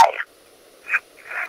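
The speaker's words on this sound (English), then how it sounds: "Frog." Frog croaks come in three short raspy bursts, close and moderately loud, with brief quiet gaps between them.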